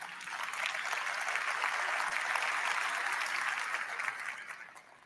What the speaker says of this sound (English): Only at GTC do you get an applause for that.